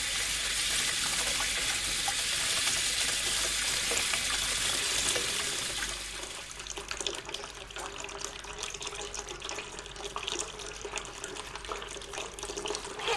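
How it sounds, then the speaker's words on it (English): Water pours and splashes steadily from a tap, a loud continuous gush for the first several seconds, then a lighter, sloshing trickle with scattered drips and splashes to the end. "It splashes and sloshes. It pours and flows, glugs and drips and overflows."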